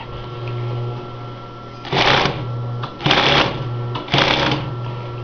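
A Singer 307 G2 sewing machine with its clutch not quite set right runs in three short loud bursts of rapid needle stitching, close by, separated by a steady motor hum.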